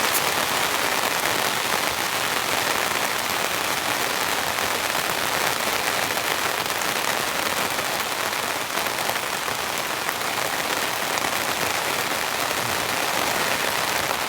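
Heavy rain drumming on a camping tent, a dense, continuous hiss and patter of countless drops, loud and steady with no letup and no voices.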